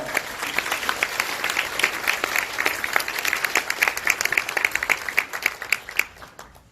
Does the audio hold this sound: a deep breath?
no